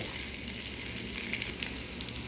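Shrimp and garlic fry in a pan with a loud, continuous close sizzle, a steady crackling hiss with small pops scattered through it and no voices.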